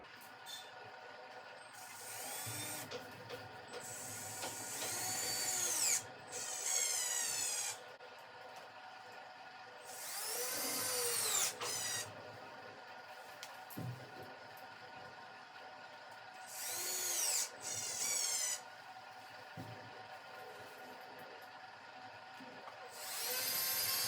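Power drill drives screws into an electric height-adjustable table in several separate whirring bursts of a few seconds each, with quiet pauses between them.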